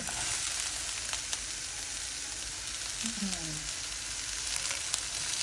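Garlic and onion frying in cooking oil for adobong pusit, a continuous bright sizzle with faint stirring scrapes and a few soft clinks, no talk.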